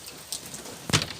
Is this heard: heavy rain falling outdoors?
yes